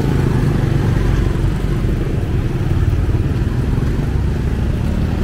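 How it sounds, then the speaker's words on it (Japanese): Motorbike engines in busy street traffic at a signal in Vientiane, Laos, a steady loud low rumble and clatter of several vehicles close by throughout. "バイクがいます。"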